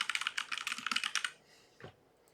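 Rapid typing on a computer keyboard during a live trading session, a quick burst of close clicking keystrokes followed by a brief pause and a final soft tap.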